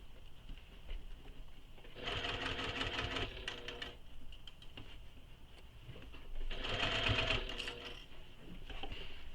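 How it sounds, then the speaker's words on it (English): A sewing machine stitches the lining base of a plush toy in two short bursts of rapid, even whirring, separated by a quiet pause with a steady faint hum underneath. "Make sure you're only sewing the lining base and the one side right now."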